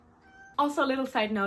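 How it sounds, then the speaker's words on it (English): A small pet cat makes meowing sounds in her sleep while a person speaks close by, the cat's high, brief cries mixed in with the talking. "if you hear some meowing, my little cat is just sleeping next to me and she makes some sounds while she's sleeping."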